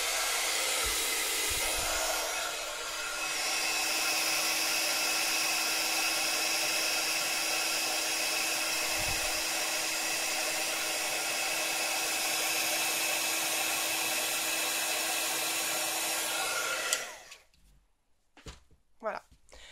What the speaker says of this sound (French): C'est mon heat gun.